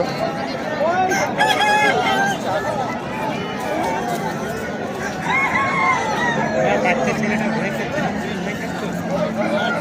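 Roosters at a cockfight fair crow repeatedly amid a busy, murmuring crowd, with nearby people talking over the noisy outdoor scene.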